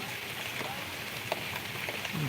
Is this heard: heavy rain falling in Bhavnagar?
yes